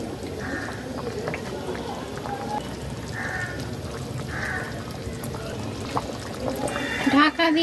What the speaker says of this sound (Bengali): গরম জল দিতে হবে এই চিকেন রেসিপিতে গরম জল ব্যবহার করতে হবে